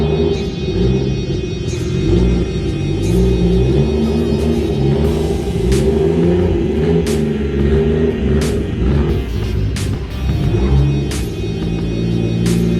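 A car sits with its engine running while it is turned around, giving a loud, steady low rumble with a slightly varying drone throughout and no talking.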